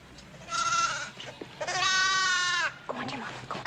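A newborn lamb bleats during lambing time, giving two long, loud wavering cries in quick succession, then a softer third call, all close by and with nothing else heard.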